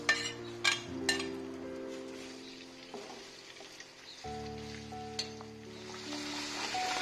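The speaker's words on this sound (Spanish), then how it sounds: "Ahora nos toca freír el embutido de la zona." Local sausages, white and red longaniza and morcón, sizzle steadily in a pan, with a few sharp clinks of a utensil against the metal early on and a loud, continuous frying hiss throughout.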